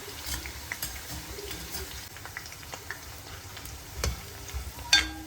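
Beef fries in oil in small batches, giving a quiet bubbling sizzle punctuated by intermittent clicks and taps of a utensil, with a slightly louder clatter near the end; no one talks.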